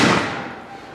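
A single loud black-powder rifle blast from Civil War reenactors in a battle reenactment at the Strasburg Railroad, a sharp close report with a rumbling decay fading over about a second.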